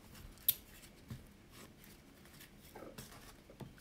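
Scissors cutting paper for a handmade mini album craft, a few faint snips and crisp clicks spaced irregularly against a quiet room.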